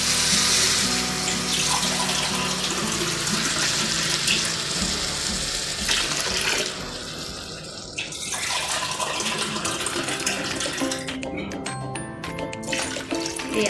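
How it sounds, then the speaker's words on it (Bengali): Eight cups of water pour into a pot of beef biryani, a steady rushing splash that runs loud for several seconds, then shifts and thins, with a voice speaking over parts of it. "এই 8 কাপ পানি দিয়ে দিয়েছি"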